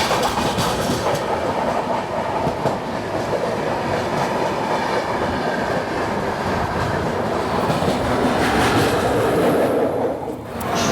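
Samta Superfast Express passing close by on Indian Railways track, a loud, sustained rumble of wheels and rattling coaches with rhythmic clatter that briefly dips near the end.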